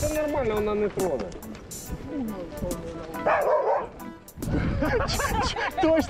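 A dog barks and yips repeatedly at cyclists riding past on a gravel bike ride, close and loud, with excited whimpering tones mixed among the barks while people talk over it.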